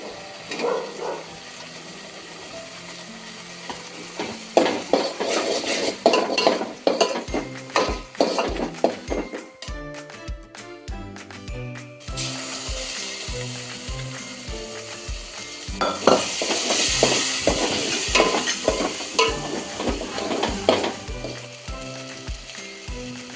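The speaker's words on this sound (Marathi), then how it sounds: "छान भाजला बघा मसाला तेलामध्ये" Black kala masala sizzles steadily in hot oil for a spicy mutton rassa, with a spoon scraping and clicking rhythmically against the pan as it is stirred, close and continuous.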